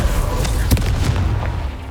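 A Confringo fire spell explosion in the Hogwarts Legacy video game, a single short boom with a deep thud landing amid loud, continuous rumbling game noise.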